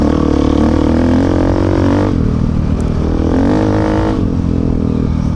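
A Honda Africa Twin motorcycle engine revs hard at full throttle, a loud, close, sustained roar that dips briefly around two seconds and again near four before climbing back up.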